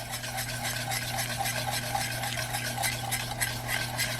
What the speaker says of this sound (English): And now I'm going to stir this until it's all blended in.